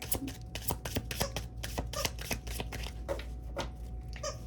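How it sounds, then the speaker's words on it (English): A deck of cards is chaos shuffled by hand, with rapid irregular riffling bursts, soft slaps and clatters repeating close up for several seconds in a quiet room. "It was the chaos shuffling."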